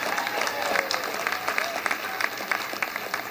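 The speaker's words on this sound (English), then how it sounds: "You can give a round of applause, okay." Audience applause at a Chamber of Commerce back-to-school breakfast in Palm Beach, greeting the county schools superintendent; a steady wash of many hands clapping at moderate distance, fairly soft, with faint voices underneath.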